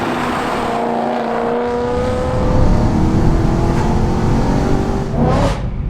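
A 449bhp BMW M3 saloon with its engine running loud and close, a sustained growling drone that swells as the revs climb, rises again near the end, then eases off, with no voices.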